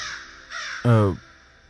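A crow caws once, a single harsh, close call near the end, preceded by faint background sounds.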